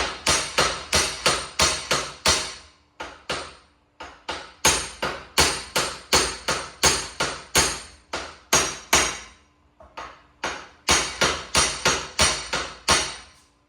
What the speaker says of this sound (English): So you're just going to hit it until the cap bottoms out on the flat surface.